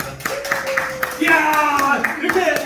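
One person claps hands in a lecture setting, sharp claps under a speaking voice and a brief musical tone.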